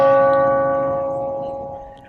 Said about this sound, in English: This was the Cornell Clock, chiming at each moment an attack occurred on the morning of September 11th.